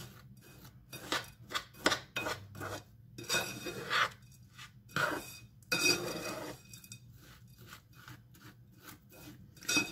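A spoon mixing white chocolate raspberry bavarois ingredients, scraping and rubbing strokes in irregular bursts with short gaps between them, close and moderately quiet.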